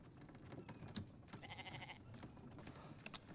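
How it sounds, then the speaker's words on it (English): A goat bleats twice in a video game, each call brief and fairly clear over a quiet, noisy background. "There's the goat."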